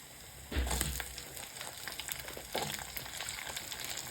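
Onions tipped into hot oil with fenugreek, coriander, urad dal and mustard seeds, a soft sizzle that swells sharply on contact and again a little later, then settles into a quieter steady crackle.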